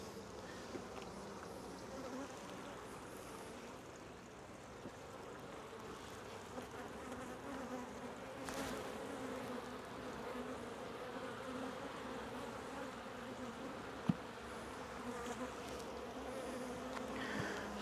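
Honeybees drone in a dense, steady buzz from an open backyard hive, close by and fairly faint, with a few light knocks of hive handling.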